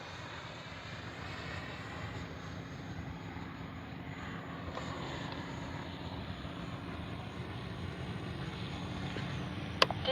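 A twin 64mm electric ducted fan radio-controlled F-15 jet flies overhead with a steady, continuous whine and rush that holds at moderate distance, without any voices.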